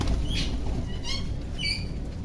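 Pigeons feeding on scattered grain, with a few quick bursts of wing flapping and soft pecking patter over a steady low background rumble, close by.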